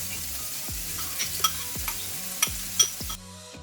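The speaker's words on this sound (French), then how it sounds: "Je fais revenir mes oignons et mon ail." Onions and garlic frying in three tablespoons of olive oil, a steady close sizzle broken by several scraping stirs, cutting off abruptly at the end.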